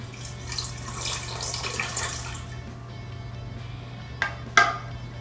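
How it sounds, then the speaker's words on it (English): Water being poured into a mixer bowl for pumpkin cupcake batter, a soft continuous splashing pour over a low background hum, followed by two short clinks near the end. "Now you're going to want to take 2/3 cup of water and put that in your mixer."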